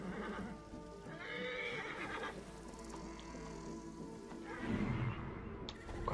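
Horse in Assassin's Creed Origins game audio, neighing and whinnying with clip-clop hooves as it is ridden away, a steady mid-level stream of game sound with a louder burst near the end.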